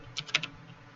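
A command is typed on a computer keyboard, a quick run of four or five light key clicks lasting under half a second, close and clear against faint room hiss.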